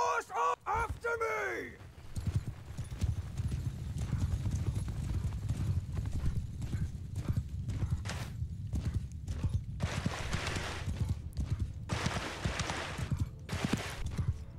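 Horses gallop in Mount & Blade Bannerlord, a steady rapid clip-clop of hooves running the whole time with a brief whinny near the start and loud bursts of clatter later.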